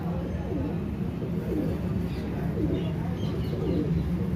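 Pigeons in a Lahore breeder's loft cooing repeatedly, soft low rolling coos overlapping close by against a steady background hum.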